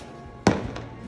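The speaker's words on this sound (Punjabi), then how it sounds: "ਤਿੰਨ ਪਟਾਕੇ ਵਾਰੀ ਵਾਰੀ ਚਲਾਓ" A single Diwali firecracker bursts with one sharp, loud bang that trails into a brief rumbling decay, with a quiet background before and after.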